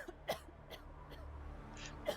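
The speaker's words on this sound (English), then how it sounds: "Sorry if you don't like the sound of Astrid coughing, it's gonna be here a bit." A character in the survival video game The Long Dark coughs several times, short rough bursts spaced apart over quiet in-game background ambience, fairly faint.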